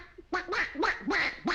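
A man mimics a duck with five rapid nasal quacks in a row, loud and close, voiced in a 1946 film scene.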